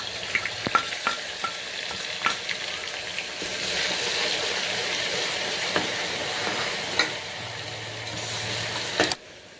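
Continuous bright sizzle of green chillies and ginger garlic paste frying in oil for mutton curry, with scattered spatters and stirring scrapes throughout, ending abruptly.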